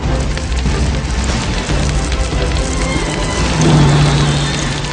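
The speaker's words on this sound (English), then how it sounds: "Okay, we got hail." Hail hammers down during a storm in a Twister film scene, a loud, dense, continuous clatter and rattle across surfaces with a low rumble beneath it.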